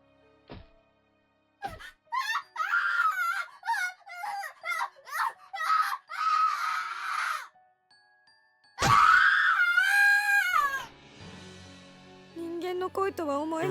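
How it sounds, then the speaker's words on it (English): Shrill, terrified screams and wailing from the Corpse Party horror video game, loud and close, in several bursts with a long sustained scream near the end and a few thuds early on. "I've never heard screaming like this before."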